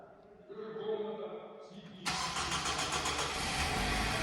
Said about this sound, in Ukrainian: Все, автомобіль завівся.